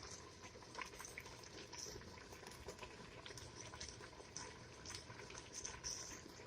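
A pan of greens boils on the stove, giving a faint, steady bubbling and simmering with soft pops throughout.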